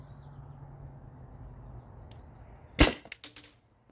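A single sharp, loud crack from a modded Byrna TCR launcher on an HPA tank firing a pink ball, followed by a few fading rattles and echoes after a steady background hiss.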